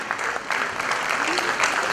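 Audience applause fills a theatre during a short Garhwali-language play about Peshawar Kand hero Veer Chandra Singh Garhwali, honouring the cast as they are named. The steady, dense clapping runs throughout at moderate loudness.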